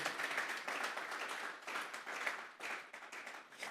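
A church congregation claps together in praise, a lively burst of applause with uneven swells and short dips across a few seconds, fairly distant and without clear speech.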